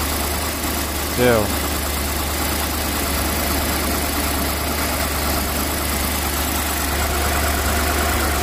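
A 2008 BMW X5 4.6L engine idles while warming up, giving a steady, even drone throughout with a faint rattling texture, and a voice briefly cuts in near the start.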